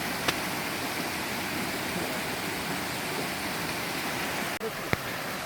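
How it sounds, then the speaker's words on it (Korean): Water pouring steadily at Muleon's mossy waterfall, one of Korea's three great moss falls, a dense, unbroken roar close by with a couple of brief clicks. "시원한 물소리도 들어보시고요."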